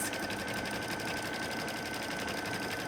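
An embroidery machine whirs and stitches rapidly, making jewelry, in a constant, dense mechanical buzz at moderate volume, with no pauses.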